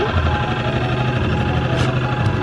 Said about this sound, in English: This time I'm going to motor back through.